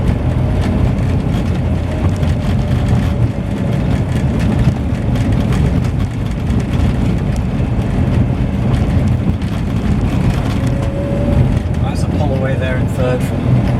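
A 1275 Morris Marina with four-wheel drum brakes pulls in third gear from about 20 mph, its engine a steady low drone under constant road and wind rumble.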